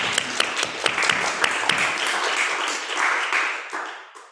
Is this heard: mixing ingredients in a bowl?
no